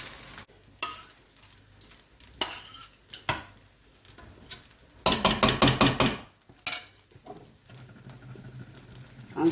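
Salt is stirred into a tomato sauce for Nigerian jollof rice, uneven bursts of spoon scraping and clinking against the pot over a faint simmer, including a quick run of rapid rhythmic strokes midway.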